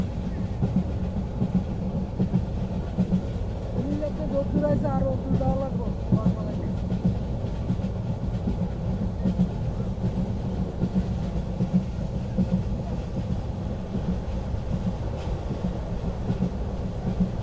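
Train on the Chittagong to Sylhet route heard from inside a carriage: a continuous low rumble with rhythmic wheel clatter and faint rattles, steady throughout.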